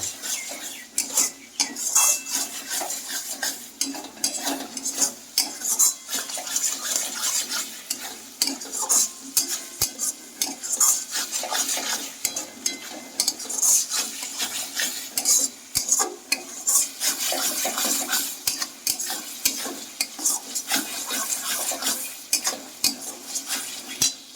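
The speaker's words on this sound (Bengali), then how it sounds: "একটু গরম জল দিয়ে কষিয়ে নেব" Dhaba-style egg masala being stirred and scraped in a pan with hot water, a steady close sizzle with frequent metal clinks of the spoon against the pan, no voices.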